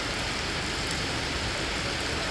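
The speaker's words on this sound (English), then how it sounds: "right now we've got a lot of rain going on" Heavy rain in Norway pours down in a dense, steady hiss with no break, loud and close.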